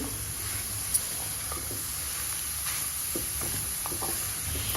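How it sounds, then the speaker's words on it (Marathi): Freshly grated coconut is roasted dry over low to medium heat and stirred in a pan for coconut burfi. A faint, soft sizzle runs throughout, with light scraping taps from the stirring. "हे असं छान परतून घेतलं। आता पूर्ण ड्राय झालेलं आहे आपलं खोबरं।"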